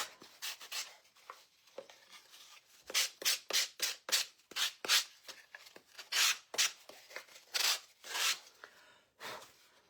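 Sandpaper rubs lightly over a small wooden ornament shape, making a quick series of close, rhythmic scratchy strokes with brief pauses between them.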